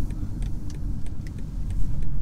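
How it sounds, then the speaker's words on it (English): A 2019 BMW X5 40i being driven, its engine giving a steady low grumble from inside the cabin, with faint light ticking sounds recurring over the smooth hum. "And the engine just has this really nice grumble to it that I love."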